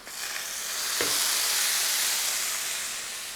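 Hot tempering of shallots and curry leaves hits a potato curry with a loud, close hissing sizzle that surges within the first second, holds strong and then eases slightly toward the end, with no voices.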